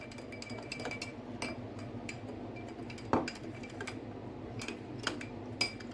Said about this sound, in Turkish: böyle sos koyuyorum içine hazır. Karıştırıyoruz.